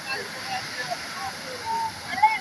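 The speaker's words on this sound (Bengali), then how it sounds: "এই ঢেউ আসতে দাও" Sea waves wash in at Cox's Bazar beach, a steady roar of surf and water with small splashes rising now and then, while voices talk over it.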